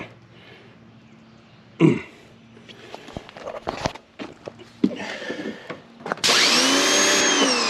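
A pressure washer sprays through a foam cannon, bursting into a loud, steady broadband hiss near the end after scattered clunks, rattles and handling noises.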